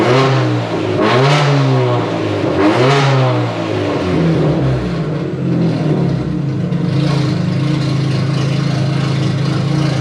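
An Audi TT 1.8T freshly fired up for the first time revs hard twice in quick succession, then settles into a loud, steady idle close by with no one talking.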